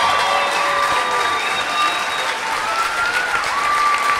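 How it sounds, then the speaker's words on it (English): A Falcon crowd at a girls' high school tournament basketball game between Clinton-Massie and Wilmington roars with sustained, loud cheering and applause, a dense wall of noise running unbroken throughout. "Listen to this Falcon crowd goes crazy."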